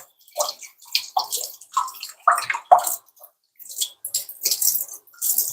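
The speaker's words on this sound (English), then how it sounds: "why chefs have to wash their hands" Water from a sink tap splashes and gurgles in uneven bursts as hands are washed in a kitchen while cooking pasta, with short pauses between the close, moderately loud gushes.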